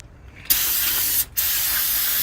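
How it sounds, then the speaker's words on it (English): Brake cleaner sprays in two sharp, close hissing bursts onto the dusty, corroded front brake parts of a Dodge Caravan, the second burst starting after a brief pause and running steadily to the end. "brake cleaner, just trying to get all the dust and corrosion from around these parts"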